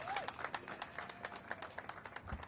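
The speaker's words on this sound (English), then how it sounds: "Give her a big round of applause." Scattered applause, a modest round of irregular claps at moderate distance, fading after a couple of seconds.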